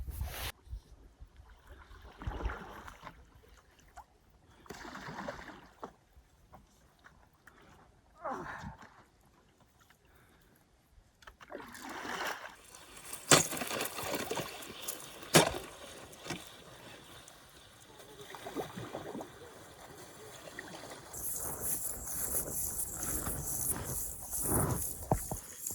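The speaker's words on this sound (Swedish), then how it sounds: "Det går förvånansvärt bra att paddla faktiskt. Trots istäcket som ligger på vattnet." A stand-up paddleboard paddles through ice-covered winter water, with scattered knocks and splashes early on giving way to louder, denser crunching and scraping of ice and water close by.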